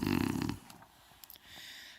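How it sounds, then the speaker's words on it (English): A single loud, rumbling snore for a bear in a storybook reading opens the moment, then fades to near quiet with faint rustles. "But the bear snores on."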